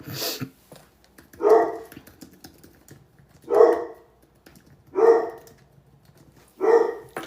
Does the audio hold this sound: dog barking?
yes